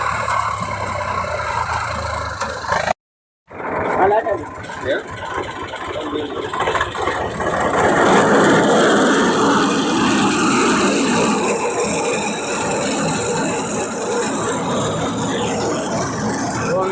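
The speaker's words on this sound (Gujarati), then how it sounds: "કાકા બાજરી વાઢી રહ્યા છે." A tractor-driven harvesting machine cuts pearl millet in a farm field, its engine droning and rattling steadily, with one brief dropout early on and voices heard over the machine noise.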